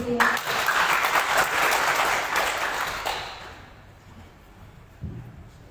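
A crowd at a youth organization inauguration ceremony in East Nusa Tenggara, Indonesia claps loudly and steadily for about three seconds, then the applause fades out, followed by a faint thump.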